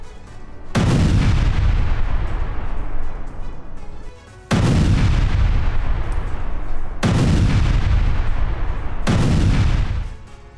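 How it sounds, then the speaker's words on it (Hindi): Russian artillery fire strikes Ukrainian positions in four heavy, booming blasts, each followed by a long rumbling roll, loud and spaced a couple of seconds apart with no talk. "जहां पर रूस का भीषण प्रहार, यूक्रेनी ठिकानों पर आर्टिलरी से हमला किया"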